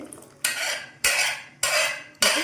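A utensil scrapes around a metal pot of lentils in four even, sweeping strokes, each a bright rasping swish, close and fairly loud with no talking.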